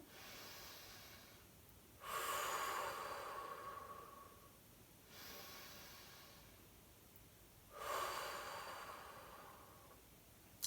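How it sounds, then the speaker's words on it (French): Strong, forceful breaths during a yoga flow session, two loud rushing exhalations several seconds apart with a softer breath between them, close and alone with no talking. "Encore 2 respirations puissantes ici."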